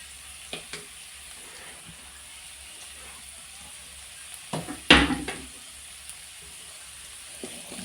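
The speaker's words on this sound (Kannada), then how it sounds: "ಈಗ ಇದನ್ನೆಲ್ಲ ಚೆನ್ನಾಗಿ ಫ್ರೈ ಮಾಡುವ ಹಸಿ ವಾಸನೆ ಹೋಗಲಿ" Beans and mixed vegetables frying with little oil in a pan for fried rice: a soft, steady sizzle underneath, broken by a few louder clanks and scrapes of stirring near the middle.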